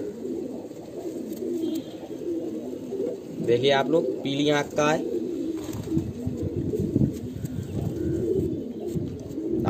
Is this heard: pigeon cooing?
yes